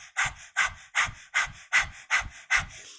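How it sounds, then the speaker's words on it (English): Breath of fire in kundalini yoga: rapid panting breaths through the nose, seven sharp rhythmic puffs evenly spaced about every 0.4 seconds, close and clear with no talk over them. "it's a panting breath, but through the nose"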